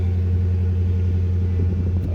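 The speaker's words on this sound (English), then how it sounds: "Alright, let's start this bad boy up." A Chrysler 300 SRT8 engine idles just after starting, a loud, steady, deep low rumble that holds evenly without revving, heard close up with no talk over it.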